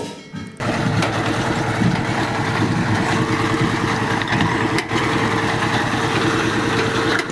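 A Swaraj 724XM Orchid mini tractor's diesel engine runs loud and close, a steady throbbing idle after a brief quieter start, unbroken for several seconds.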